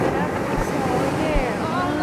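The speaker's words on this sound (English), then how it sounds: "Oh, I love the sound of these waves." Ocean waves crash on the shore in a loud, continuous rushing wash, with wind buffeting the microphone throughout.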